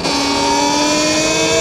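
A Talaria XXX electric supermoto bike being ridden fast gives a loud, steady, close-up motor whine with layered tones over rushing wind noise, unbroken throughout.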